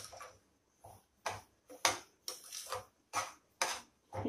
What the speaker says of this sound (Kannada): ಇಲ್ಲಿ ರವೆನ ಸ್ಲಿಮ್ಮಲ್ಲೇ ಇಟ್ಕೊಂಡು ಫ್ರೈ ಮಾಡ್ಕೋಬೇಕು.